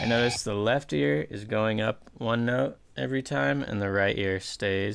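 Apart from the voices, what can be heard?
No everyday noises stand out.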